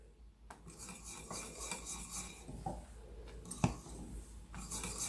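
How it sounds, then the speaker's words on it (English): A spoon scrapes and rubs against the bottom of a pot while thickening custard for a twelve-layer Napoleon cake is stirred, with repeated close rasping strokes in an irregular rhythm. "I'm going to keep stirring this."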